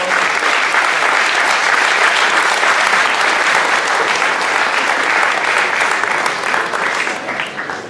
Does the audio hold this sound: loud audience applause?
yes